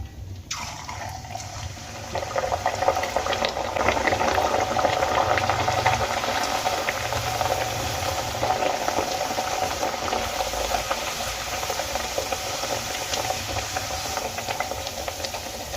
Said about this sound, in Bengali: এবার আমি বাকি কচুরিগুলো ভেজে নেব।